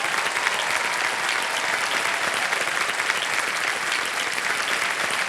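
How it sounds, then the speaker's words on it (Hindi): A studio audience at a TV quiz show applauds loudly and continuously, a thick, even wash of clapping from many people with no break. "तालियां बजती रहे जोर से"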